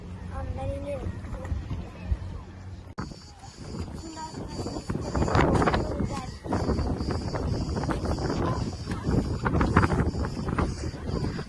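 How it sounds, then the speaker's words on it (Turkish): Gusty wind in Bodrum rumbles against the microphone, growing stronger after a sudden shift, with a person talking briefly near the start. "bugün çok rüzgarlı hava ya"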